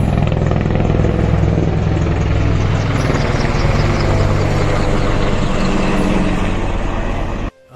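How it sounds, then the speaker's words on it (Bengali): Three or four army helicopters pass overhead in quick succession near a hillside homestay in Tawang, Arunachal Pradesh; a loud, close, continuous rotor roar that persists throughout and cuts off abruptly at the end. "পরপর 3-4খানা হেলিকপ্টার গেল।"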